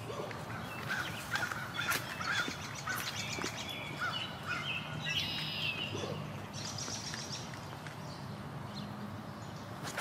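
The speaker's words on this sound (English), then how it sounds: "don't scare the ducks on the right" Ducks near a disc golf tee beside a creek tributary, giving faint, scattered honking calls at a distance over a steady outdoor background hum.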